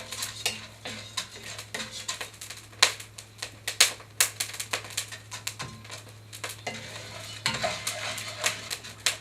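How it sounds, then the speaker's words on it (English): Coffee beans cracking as they roast in a cast iron pan, irregular sharp pops and snaps scattered close together over a low steady hum, some clustered in quick bursts. "it's cracking pretty good and smoking a lot more now"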